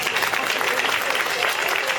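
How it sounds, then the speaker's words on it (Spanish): An audience at a PechaKucha presentation night applauds, with steady, dense clapping that fills the whole moment at moderate loudness. "Un aplauso para David."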